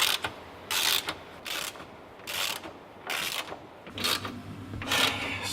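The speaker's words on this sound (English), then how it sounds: "Now we're undoing the 5 bolts that are keeping the steering wheel attached to the subframe." A ratchet spins subframe bolts loose on a Volvo 850, giving about six quick bursts of rapid clicking separated by short pauses, close and clear.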